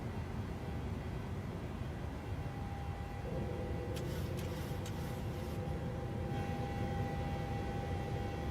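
Boeing 737 climbing out in Microsoft Flight Simulator with a steady engine roar, a brief mechanical whir and clunks of the landing gear retracting partway through, no talking.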